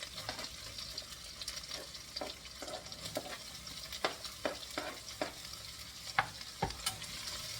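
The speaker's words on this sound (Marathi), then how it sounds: "नंतर कांदा म्हणजे अनियन कापलेला होता तो घालायचा आहे." Crushed ginger and chopped onion fry in a pan with a constant sizzle, broken by repeated sharp spatula scrapes and clacks as the pieces are stirred, close and fairly quiet.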